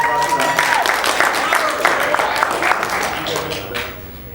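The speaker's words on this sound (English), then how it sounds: "Round of applause for them, please." Wedding guests break into applause at a reception, a dense burst of close clapping that tapers off toward the end, with a voice over a PA talking through it.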